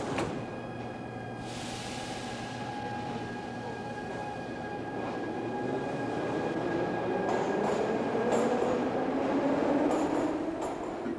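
A Moscow metro train sits in a station, then pulls out: a steady electrical hum and whine rises as the train accelerates, with wheel and rail noise building and faint door or brake squeals, fairly close and with no talk.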